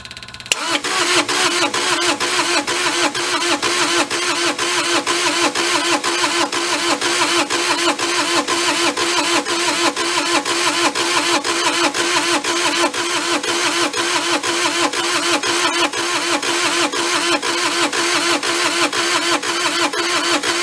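A Bobcat skid steer engine, bought as a non-runner, cranks and catches with the throttle about halfway up, then runs on in a loud, close, steady rapid diesel chatter, with no talk.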